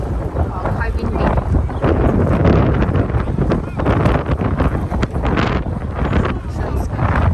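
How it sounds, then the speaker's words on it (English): Strong wind buffeting a microphone outdoors in the Banff area, loud gusty rumbling that rises and falls throughout, with people talking underneath. "Quite windy."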